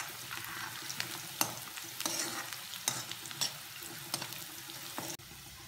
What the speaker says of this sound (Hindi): काजू को भी थोड़ा शैलो फ्राई करेंगे.